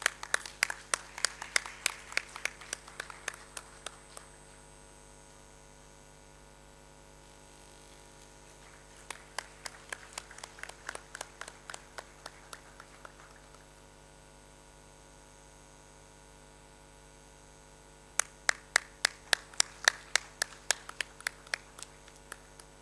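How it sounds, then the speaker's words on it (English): An audience at a world dental sciences and oral health conference breaks into three separate rounds of applause with sharp, distinct hand claps, heard over a constant electrical hum between the bursts. "Please put a big round of applause"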